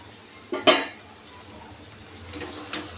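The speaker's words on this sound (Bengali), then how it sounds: "এবার আমি ঢাকনাটা খুলে নেব" Metal lid lifted off a cooking pot of fish curry with taro and eggplant, two sharp clanks close by followed by a lighter clink, over faint kitchen background.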